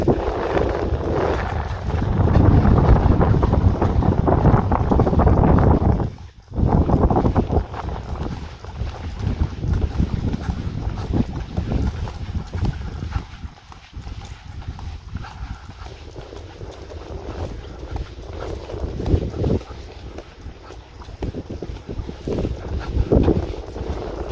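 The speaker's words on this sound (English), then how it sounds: "It's just lovely wind, lovely breeze" Steady wind and breeze blowing across an open, quiet spot on the Thai island of Ko Lanta, a broad continuous rush with gusts and a brief dropout, near the microphone, with no talking.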